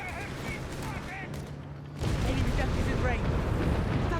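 Battle noise from Company of Heroes 3, with Wehrmacht and US forces fighting, including grease guns: a continuous rattle of small-arms fire and booms that swells louder halfway through, with a commentator talking over it.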